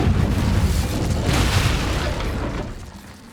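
A loud, booming fire blast from the Incendio spell in Hogwarts Legacy, a sustained roaring burst that swells briefly and then fades away.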